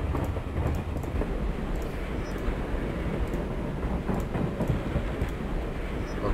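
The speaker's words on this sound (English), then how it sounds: "From this point, the train will be running at reduced speed." A train running in the video game Gadget: Past as Future, a steady low rumble with faint rhythmic clatter carrying evenly throughout, no voices.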